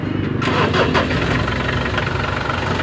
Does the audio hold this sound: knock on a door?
no